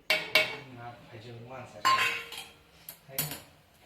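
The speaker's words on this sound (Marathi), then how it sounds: "याला आता मस्त फिरवून घेते याला सारखं फिरवत राहावं लागतं" Spoon scraping and clanking against a pan while stirring sweet lentil puran filling with sugar and ground fennel, irregular metallic clinks and scrapes close up, a few sharp knocks spaced out.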